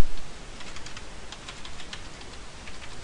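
A computer keyboard is typed on in a quick, light run of soft clicking keystrokes, close but fairly quiet.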